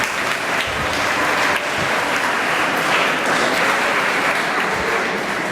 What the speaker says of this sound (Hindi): मैं चाहता हूं कि एक बार जोरदार तालियां बजा करके हम उनका स्वागत,